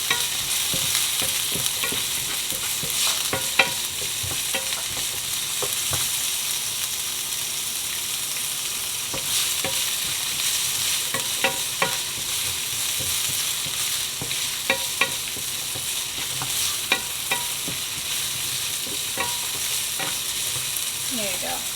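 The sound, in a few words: sautéing red pepper in vegetable oil in a pan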